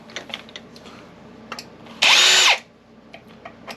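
A power drill whirs in one short half-second burst while backing screws out of scrapped computer parts, surrounded by quiet clicks and handling of the metal pieces.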